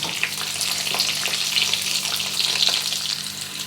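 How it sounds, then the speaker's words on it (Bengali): Rohu fish fingers frying in hot oil give a steady, close, bright sizzle with crackling bubbles that runs unbroken throughout, with no voices. "এবার ফিশ ফিঙ্গারগুলো ভেজে নেব এগুলো আস্তে আস্তে নেড়ে চেড়ে আমি ভেজে নেব একটু লালচে করে ভাজব"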